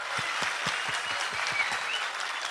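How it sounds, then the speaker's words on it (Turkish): Crowd applause honoring a singer at the opening of his museum in Adana, a dense, steady wash of clapping at moderate volume with distinct individual claps standing out, no voices. "Bir alkış sizlerden ona rica ediyorum cani gönülden lütfen"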